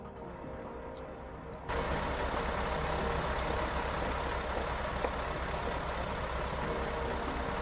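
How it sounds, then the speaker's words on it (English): A heavy Mack truck engine in American Truck Simulator rumbles steadily at idle after a sudden start, a constant low growl with no voices. "Listen to that Mackinac engine roar."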